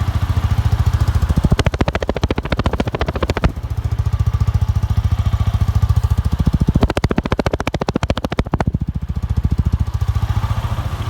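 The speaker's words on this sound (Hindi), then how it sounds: "और एग्जॉस्ट नोट भी सुना देता हूँ आपको।" A Yamaha R15 v4 motorcycle idles with a steady, close, throbbing exhaust note, rising twice into harder, louder revving bursts before settling back to idle.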